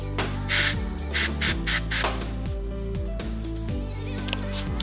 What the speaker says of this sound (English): so spray some brake cleaner to wash away any of the cutting fluid.